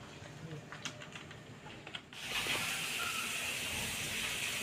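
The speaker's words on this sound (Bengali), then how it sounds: "এই যে তেল দিয়ে দিল ফ্রাই করবে ফ্রাই করবে" Food hitting hot oil in a pan: after a quiet start with faint clatter, a loud, steady broadband sizzle swells up and keeps going close by.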